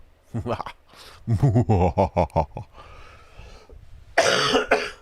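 A few sharp coughs mixed in with a person talking, ending in a louder burst of harsh coughing.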